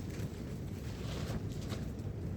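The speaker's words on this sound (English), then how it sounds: "I'm just out camping at the moment, so you might hear a bit of wind and a bit of wafting" Steady wind blowing outdoors at a campsite, a continuous low rumble with soft buffeting gusts against the microphone, constant and fairly loud throughout.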